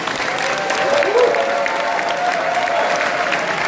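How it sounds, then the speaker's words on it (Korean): Audience applause for a lecturer at a regional council launch ceremony in Gumi, with steady clapping from a crowd filling the hall at a fairly even level. "엑기스 위주로 핵심 강연을 해주신 안재모 박사님께 다시 한번 큰 박수 부탁드리겠습니다."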